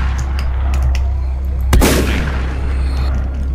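A single loud shotgun blast fires in a zombie video game, a sharp crack with a decaying boom tail, set against steady low background noise.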